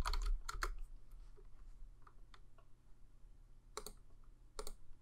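Typing on a computer keyboard, a few quick bursts of clicking keystrokes with pauses between, close and moderately loud, no voices.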